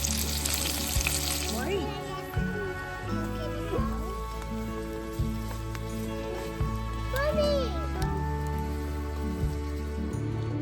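Chicken sizzles and crackles steadily in a skillet at a cold winter campsite in the Ozarks, a constant frying hiss running the whole time beneath a loud steady tone, with a few scrapes and clinks.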